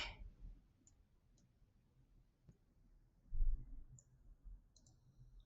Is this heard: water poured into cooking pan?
no